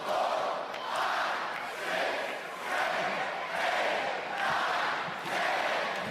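A large arena crowd at a live SmackDown wrestling event in Fort Worth roars and cheers steadily, the noise swelling in regular waves about every second and a half, loud and continuous with no clear voice on top.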